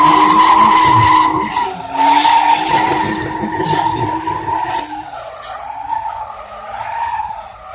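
A drift car slides on a track with loud sustained tire squeal and skidding over engine roar, heard close, easing toward the end as the car straightens, with faint commentary underneath.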